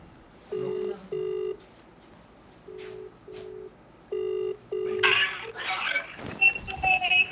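Outgoing phone call on a handset: a ringback tone sounds in paired bursts, repeating three times at a steady rhythm, then voices and background noise take over at the end.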